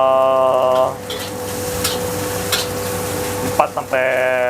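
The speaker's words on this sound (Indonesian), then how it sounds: "Untuk ikan biasanya sih gua goreng" Fish frying in oil in a busy food-stall kitchen, a steady broadband sizzle running throughout at close range, with tonal clatter and beeps at the start and end and brief knocks in between.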